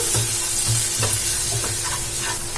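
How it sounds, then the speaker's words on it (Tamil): A spatula stirs coriander leaves into bun masala in a hot pan, and the rhythmic scraping strokes sit over a constant loud sizzle, close up and without speech. "மல்லியிலை சேர்த்துட்டு இதையும் நல்லா மிக்ஸ் பண்ணிக்கலாம்."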